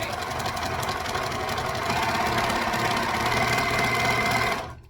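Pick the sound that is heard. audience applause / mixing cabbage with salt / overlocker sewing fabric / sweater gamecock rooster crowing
overlocker sewing fabric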